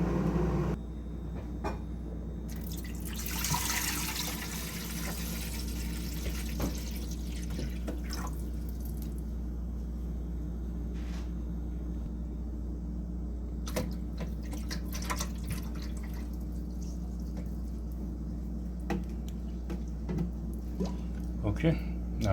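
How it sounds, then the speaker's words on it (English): Clear water runs and splashes into the tank of a Keurig coffee maker, a continuous trickling pour under a steady low hum, with someone talking over it. "I'm going to dump all mixture out and fill it up with clear water."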